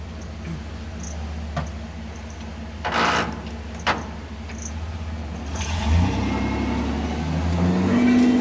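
A 1974 Jeep CJ-5 with bad brakes is backed out with its engine running, a steady low idle rumbling throughout with a few brief knocks and a rise in engine pitch near the end.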